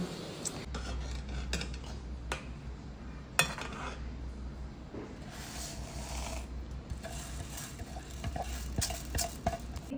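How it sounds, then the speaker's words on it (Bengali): Payesh, a Bengali rice pudding, cooking in a pot while a spoon scrapes and stirs it in soft, uneven strokes under a low background hum, with a few sharper clinks and no clear speech. "এখানে মা পায়েস বসিয়ে দিয়েছে, পায়েস রান্না হচ্ছে।"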